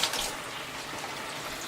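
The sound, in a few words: water running from tap, washing salad vegetables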